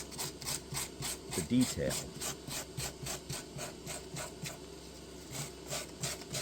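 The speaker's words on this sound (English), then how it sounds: "When you hit it with the sandpaper, it really brings out" Sandpaper rubbed by hand over wood, making a steady rhythmic rasping stroke about three times per second, close and moderately quiet. Someone speaks briefly over it.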